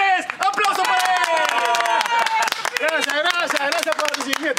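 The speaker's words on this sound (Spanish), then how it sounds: "¡Aplauso para él!" A studio-style crowd applauds Pepe González's return in a Peruvian TV comedy scene: brisk, continuous clapping throughout, partly masked by loud, prominent voices or music over it.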